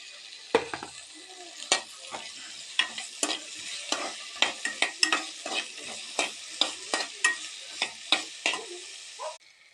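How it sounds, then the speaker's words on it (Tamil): Okra is stir-fried in oil in a pan over a soft sizzle, with about fifteen sharp, regular scrapes of a spatula against the metal pan. "இப்போ அதே கடாயில் இன்னும் கொஞ்சமாக ஆயில் ஊற்றி நம்ம வெண்டைக்காயை வதக்கி எடுத்துக்கலாம்."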